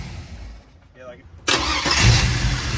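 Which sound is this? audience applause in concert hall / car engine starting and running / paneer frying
car engine starting and running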